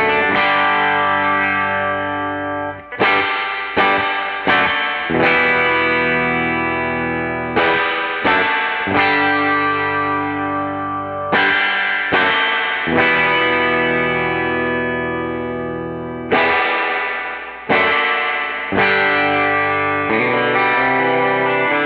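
Electric guitar run through a stand-alone reverb tank, playing a series of strummed chords, each attack ringing out with a wet, lingering tail before the next; close and steady in level, with no talking.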